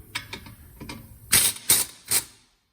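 Several quick rattling bursts from a 3/8-inch compact pneumatic angle impact wrench, faint at first, then three louder hissing hammering spurts close by before silence.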